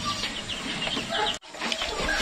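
Chickens cluck and chatter inside a coop, short close-up clucks scattered over a steady background noise, with a brief dropout partway through.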